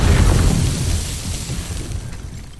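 An explosive sniper rifle round detonates in 7 Days to Die while a tunnel is being blasted. A loud, deep boom hits at once and then rumbles and fades over a couple of seconds, with no talk over it.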